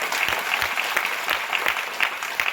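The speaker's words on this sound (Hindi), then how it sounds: "एक बार ताली बजा दीजिए।" An audience at an RCM company meeting class claps steadily, a dense, fairly loud wash of hand claps with no voices over it.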